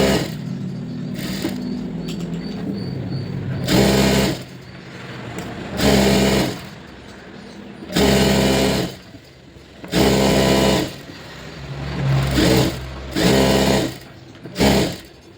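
An electric sewing machine stitches around a blouse lining in repeated bursts of fast whirring, starting and stopping every second or two, loud and close with no talking.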